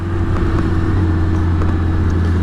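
A BMW K1600 GTL motorcycle on an Autobahn, its engine droning in a steady, loud, continuous hum with constant wind rush and no letup.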